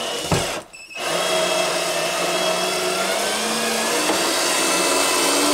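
A cordless screwdriver whirs steadily as it backs a screw out of a wooden board on a bathhouse wall, a brief stop near the start, then a continuous loud, close motor drone.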